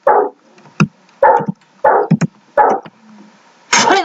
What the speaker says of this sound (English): I wish the dog would be quiet.